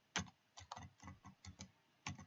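Typing on a computer keyboard, a close, quiet series of distinct key clicks in irregular bursts and pauses, alone without talk.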